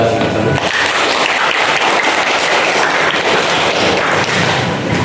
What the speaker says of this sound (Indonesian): Tepuk tangan untuk 12 tersebut.